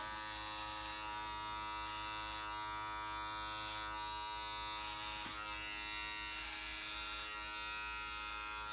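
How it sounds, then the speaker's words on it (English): An electric hair clipper runs steadily and close up while trimming a man's hair around the ears, giving a continuous buzzing drone through the whole stretch with slight changes in tone as it moves, and no talking. "Make sure when you're going around the ears to kind of tilt the clipper so it's getting all those hairs."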